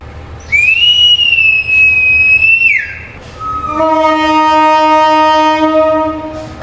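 A Putri Deli passenger train hauled by BB 203 locomotives departs Medan station. A high whistle is followed by a long, loud, multi-tone horn blast heard close by.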